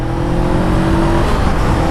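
A motorcycle engine revs loud and close while the rider moves through traffic, a steady droning growl with a held tone that runs unbroken for the full two seconds.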